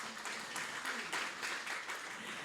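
An audience gives brief, scattered applause at a city's State of the City address, a soft, distant patter of clapping lasting a couple of seconds.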